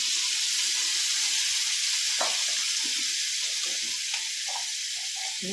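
Steady broadband sizzle from a hot pan of spiced boiled green moong dal as water goes in, with faint stirring clinks over a continuous hiss; no talking.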